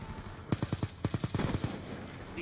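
Two rapid bursts of automatic gunfire from the video game Black Ops 2 on the Nuketown map, each a quick string of about six sharp shots, separated by a short gap.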